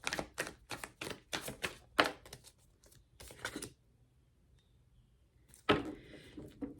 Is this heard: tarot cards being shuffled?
yes